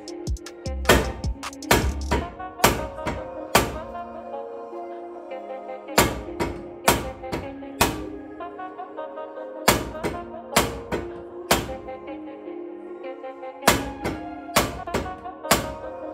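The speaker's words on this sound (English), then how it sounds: "sometimes you just got to bang them with a hammer and kind of work them off" Repeated sharp metallic hammer strikes on a brake rotor of a 2002 Toyota MR2 Spyder ring out in bursts of three or four, with short pauses between groups, loud and close.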